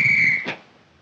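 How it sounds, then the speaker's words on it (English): A toy whistle gives one short, shrill, steady blast that ends with a breathy puff, heard alone. "I didn't show you my new whistle."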